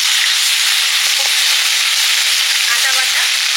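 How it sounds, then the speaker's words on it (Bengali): Turmeric and garlic paste hit hot mustard oil for a potato chop filling, giving a loud, dense, continuous frying hiss close up, with faint murmuring in the background. "সর্ষের তেল দিলাম, চপের আলুটা কষে নেব, একটু হলুদ দিয়ে রসুন বাটা দিলাম,"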